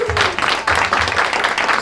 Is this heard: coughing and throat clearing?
no